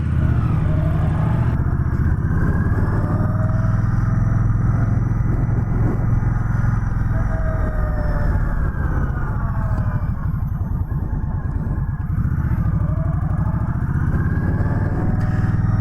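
A 2020 Indian Scout Bobber Sixty motorcycle is ridden, its engine rumbling steadily and close with rising and falling pitch under continuous wind rush.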